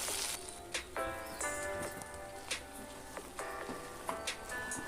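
Green-pea kochuri fry in hot oil with a steady, quiet sizzle broken by recurring sharp crackles and pops, heard alone without talk.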